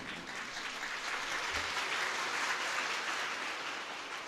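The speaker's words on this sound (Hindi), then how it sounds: "ताली दो तरह से बजती है।" Steady applause from an audience at a spiritual gathering, a dense continuous wash of clapping held evenly throughout, fairly loud and with no talking over it.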